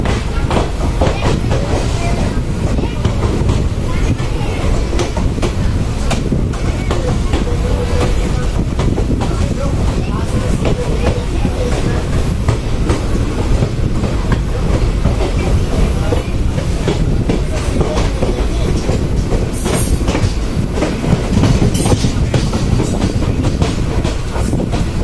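Uttaranchal Sampark Kranti Express running on its tracks, a loud, steady rumble with rhythmic clickety-clack of wheels over rail joints throughout, heard from on board.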